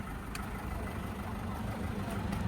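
A 2007 Toyota Vigo 3.0 Prerunner pickup with manual transmission idles steadily at close range, a continuous low rumble with no revving and no talk over it.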